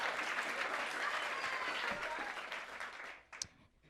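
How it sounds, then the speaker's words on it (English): An audience at a live poetry and spoken-word event in DC gives a full round of applause, dense and even, before it tapers off quickly near the end, leaving a few scattered claps. "clap it up for that."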